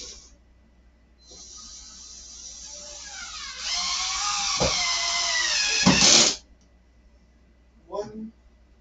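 A power drill drives short screws into a layout, whirring steadily for about five seconds as its pitch shifts, then stopping with a thump, followed by a brief clatter in a quiet room.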